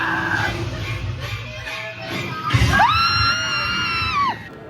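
Crowd of guests at a Disneyland Halloween show shrieking and yelling together, a burst of loud high screams rising and holding for a couple of seconds over general crowd commotion and a thump.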